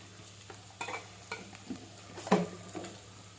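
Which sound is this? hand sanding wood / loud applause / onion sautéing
onion sautéing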